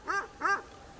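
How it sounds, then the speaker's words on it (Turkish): Kangal mix dog giving two quick, close barks in succession, then quiet. "Görüyor musun? Sert bir köpek."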